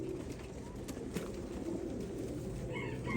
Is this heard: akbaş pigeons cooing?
yes